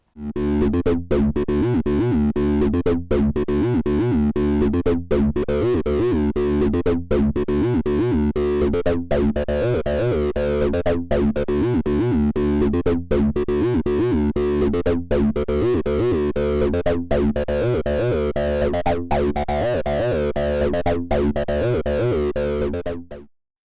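A gritty, distorted acid bass synth pulses in a steady repeating pattern, its filter cutoff slowly swept open and closed by a slow triangle modulator, loud and continuous throughout.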